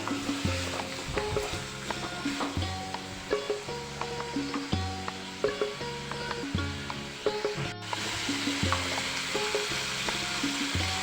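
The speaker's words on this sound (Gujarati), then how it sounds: "બેથી ત્રણ મિનિટ સુધી આપણે સાતોઈ લઈએ મસાલાને" Masala for restaurant-style paneer tikka masala sautéing in a pan, a steady close sizzle and frying hiss with rhythmic scraping stirs throughout, no voices.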